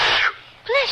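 A single sharp sneeze, a quick breathy burst followed by a short vocal exclamation after a brief pause.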